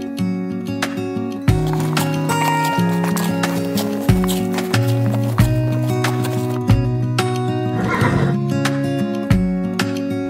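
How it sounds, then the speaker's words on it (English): Ponies trotting with kids riding on Darjeeling Mall, a busy hill-town promenade in North Bengal: steady hoof clip-clops on hard ground with a whinny, over loud music and crowd bustle throughout. "I was really enjoying to see the kids taking the pony rides."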